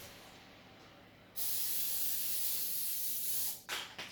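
Cooking spray hisses steadily from a can into a Ninja Foodi air fryer basket in one long burst of about two seconds, then a brief second squirt, close and loud.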